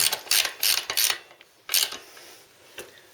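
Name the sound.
ratchet bolting lowering block on Harley Sportster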